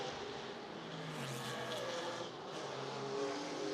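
Historic IMSA GTO race cars, including a 1990 Nissan 300ZX, roar around the track mid-race, a continuous engine drone rising and falling as cars pass at a distance.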